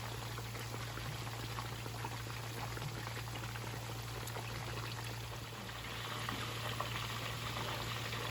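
Chapli kebabs fry in a pan as oil is added over them, giving a steady, soft sizzle and bubbling hiss throughout with no talk.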